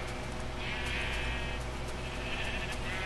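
Minecraft sheep bleat in a video game, two drawn-out wavering bleats over a steady background hum, the second fainter than the first.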